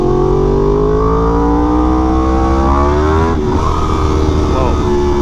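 A Yamaha R1M sport bike with a quick shifter accelerates hard, its engine pitch climbing steadily, then dropping sharply at an upshift and climbing again, loud and close throughout.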